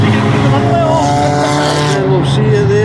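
A Honda Civic race car's engine whines and revs up and down close by as it spins on a corner during an endurance race, with a voice talking over it.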